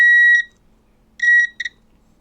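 Multimeter continuity beeper sounding while probing a faulty power bank, an Enginestar R350 that won't charge: a long steady beep, then a pause, then a short burst of beeps and two quick chirps, loud and close.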